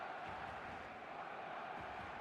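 Stadium crowd in the football game eFootball 2026, a faint, steady roar of massed voices with no distinct cheers or chants, heard on its own.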